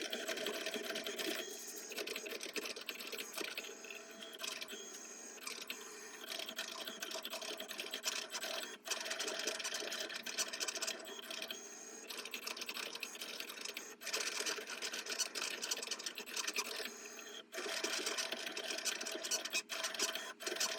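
A Cricut cutting machine works through premium vinyl, giving a faint, continuous mechanical whirring and buzzing with short stops and restarts as the carriage moves, heard alone.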